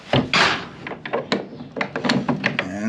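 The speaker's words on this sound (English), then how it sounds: "close up this door." A wooden stall door in a horse stable swings shut with a couple of hollow knocks and a thunk, followed by scattered clattering and bumping nearby, all fairly loud and close.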